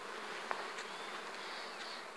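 A this-year honeybee swarm buzzes at a hive in a soft, steady drone, with individual bees whining past close by now and then.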